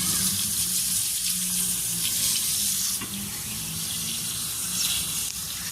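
Water runs steadily from a household tap during chores at home, a close, continuous hiss and splash that holds evenly throughout with no talking.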